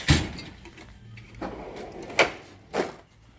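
A mechanic's tool box drawer slides open, giving a few scraping and rattling bursts of metal on metal, with a sharp clack at the start and two more rolls near the end, close and moderately loud.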